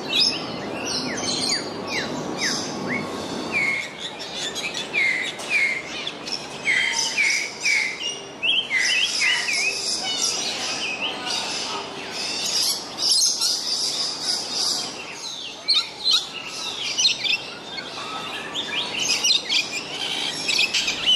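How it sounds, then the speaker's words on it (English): Birds in the Hong Kong Park aviary chirp and tweet busily in overlapping, repeated high calls, fairly close and loud, with no voices present. "I'll conclude this video by showing you some more of the cool birds in the aviary."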